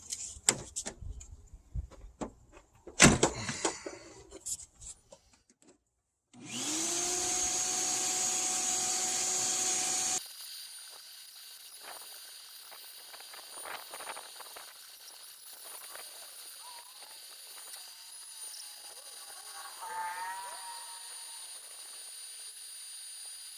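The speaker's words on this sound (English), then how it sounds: "bring the vacuum over and suck some of that stuff out of there" A shop vacuum cleaner sucks debris out of a stripped-down Suburban interior: after some clattering handling, a loud steady whine runs for about four seconds, then drops to a quieter hum with occasional rattling of debris.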